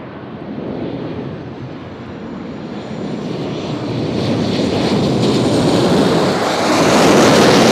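A Sun Country airliner in orange livery at Nashville International Airport, its engines roaring steadily and swelling louder as it draws nearer, heard alone with no talking.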